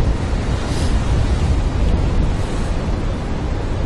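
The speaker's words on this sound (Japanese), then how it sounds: "やばいよこれ、水しぶきがバッシャバシャ飛んでくる。" Big ocean waves crash against rocks on the coast at Choshi, Chiba, making a dense, continuous roar of surf and spray close to the microphone with wind buffeting, and no talking.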